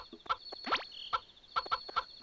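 Chickens in the video game Harvest Moon 64, a string of short bright clucks and one rising squawk, clear and close, spaced irregularly with no talk.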